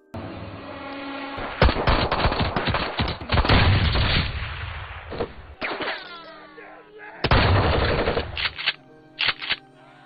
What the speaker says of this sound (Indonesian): Julia berhasil menyerang mereka, bahkan sampai menembak kaki Eric